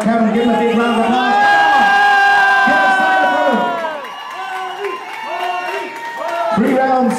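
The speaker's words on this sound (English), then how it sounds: "any supporters of Arniel and Kevin, give them a big round of applause" A crowd at an amateur boxing event in Uganda cheers and whoops for the boxers, loud and close, with sustained shouting voices that dip briefly and then surge again.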